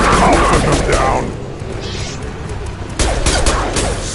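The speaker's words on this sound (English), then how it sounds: "Firing a high impact shot" Gunfire in the Mass Effect 2 video game: a loud dense burst of shots with booming impacts, easing off mid-way and then returning, mixed with character voices and game effects.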